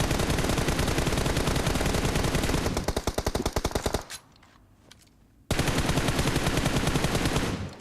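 Dense, loud automatic gunfire in PUBG Mobile runs in long rapid bursts, stops briefly to near quiet with a few scattered shots, then resumes at full intensity.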